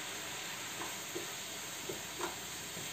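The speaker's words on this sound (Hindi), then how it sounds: "और सब मिक्सचर को अच्छे से भून लीजिए।" A spice and onion mixture frying in a pan, a faint steady hiss with a few soft, separate stirring scrapes, quiet throughout with no voices.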